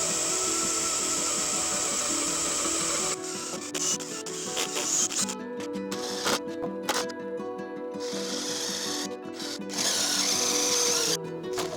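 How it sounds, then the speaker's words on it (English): An impact driver bores deep holes into bricks for porch spandrels, giving a continuous harsh grinding whir with stuttering pauses and bursts as the bit bites and releases. "I'm using impact driver instead of a drill, because these holes are pretty deep"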